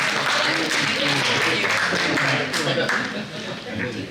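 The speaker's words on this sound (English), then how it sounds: "give another warm applause for Dave." Warm applause from a Rotary club meeting audience in Gilroy, a steady wash of clapping running throughout with voices talking and cheering underneath, tapering slightly near the end.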